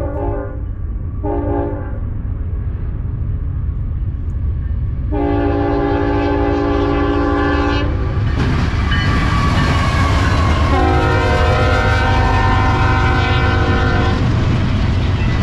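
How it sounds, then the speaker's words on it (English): A BNSF double-stack freight train passes at Daggett, California, sounding a loud multi-tone horn in several blasts over a heavy, continuous roar of wheels and cars close by. "We have a BNSF stack train coming by Dagget, California."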